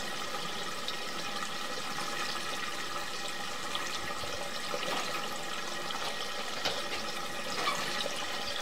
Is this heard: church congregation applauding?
no